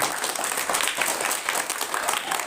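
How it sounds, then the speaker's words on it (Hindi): An audience at a school competition claps for a young class 2 girl, a dense, steady burst of applause that carries on for a couple of seconds at moderate loudness. "ये छोटी सी उम्र क्लास 2 के लिए एक बार जोरदार ताली मारिए"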